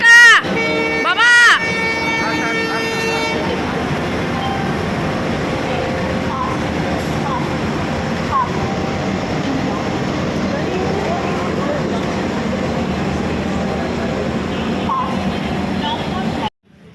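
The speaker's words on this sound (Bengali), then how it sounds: "ছেলে ট্রেন ছাড়লো" Loud train horn blasts open, then a heavy, continuous rolling rumble as the train pulls away, close by and steady, with some voices around it.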